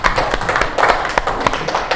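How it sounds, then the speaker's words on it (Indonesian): Classroom students clap together for a classmate, a brisk burst of hand claps close by and moderately loud, with no one speaking. "Tepuk tangan semuanya buat Sela."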